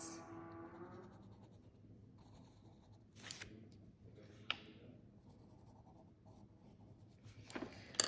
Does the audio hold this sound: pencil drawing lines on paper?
yes